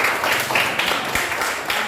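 Students in a classroom clap together for their group discussion, a short burst of close, dense applause from a small group.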